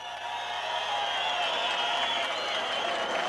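Crowd applause at a rural jaripeo bull-riding event, a loud, continuous wash of clapping and crowd noise with a faint tonal hum underneath, holding steady across the stretch.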